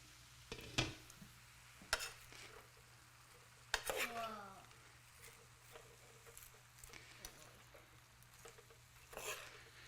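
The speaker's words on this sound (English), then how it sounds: "Let's give our dinner a stir here." Cabbage slaw being stirred in a cooking pan, with scraping utensil strokes and clinks against the pan at irregular intervals over a low steady hum; a brief voice-like sound is heard midway.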